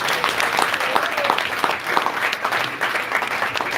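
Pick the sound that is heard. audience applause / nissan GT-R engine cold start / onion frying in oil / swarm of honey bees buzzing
audience applause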